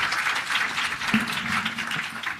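An audience at a leadership summit applauds, giving a steady wash of clapping from many hands at moderate distance, sustained throughout without a break.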